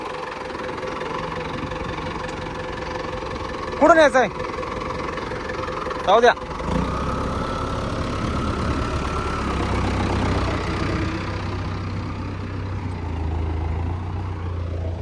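An Arjun Novo 4WD tractor engine idles with a steady low rumble, close by; a person speaks briefly and short whistling chirps cut in before the engine tone deepens.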